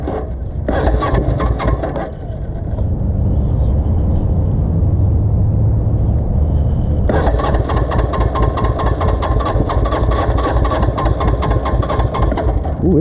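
A custom Suzuki GS450 scrambler motorcycle engine with the choke half on runs rough and refuses to idle, loud and close, its revs surging and dropping unevenly, with a short dip before it picks up again.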